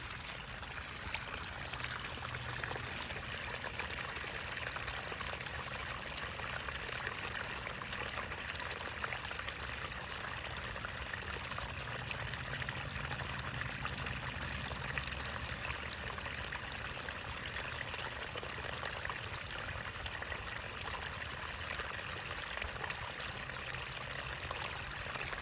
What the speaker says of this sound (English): let you listen to the sounds of rushing water